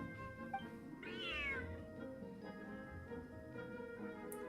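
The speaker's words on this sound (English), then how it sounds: "It's Rosaria's cat." A cat in the Genshin Impact video game gives a single rising-then-falling meow about a second in, clear and fairly close over a quiet steady background of game music.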